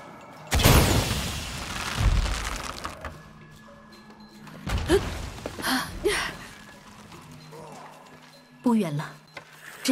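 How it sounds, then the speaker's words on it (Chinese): An explosion in Shadow of the Tomb Raider that raises a platform: one loud booming blast with a rolling rumble, followed by scattered thuds and mechanical knocks, a few short vocal sounds and a final sharp hit. "制造一次爆炸就能让平台上升了"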